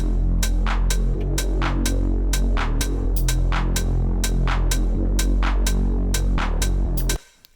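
A heavy, deep bass house synth pad pulses in a steady rhythm, thick low end under bright sharp transients, loud and alone, cutting off abruptly near the end.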